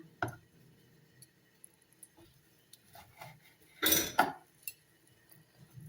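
A knife cuts through meat on a board, with quiet scraping and a short burst of louder chopping and clatter midway, no voices.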